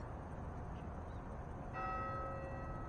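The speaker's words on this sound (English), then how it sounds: "What sound are we hearing from the church?" A church bell rings out partway through, its clear tones sustaining over a steady low rumble of background noise, fairly distant.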